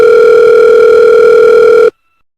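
A telephone dial tone sounds loud and steady as a single continuous tone, then cuts off abruptly near the end, leaving silence.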